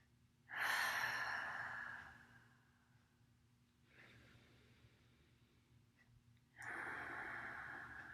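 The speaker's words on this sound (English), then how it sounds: "Let's do a couple rounds of long exhales here." Long, slow exhales during a calming breathing exercise, three soft breathy rushes of air a few seconds apart, close and quiet against a faint steady hum.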